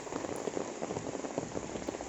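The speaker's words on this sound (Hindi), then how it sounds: "और अच्छी बारिश भी हो रही थी।" Rain falls steadily on rocks near a waterfall, a dense, even patter of countless drops pattering close by, with no voices.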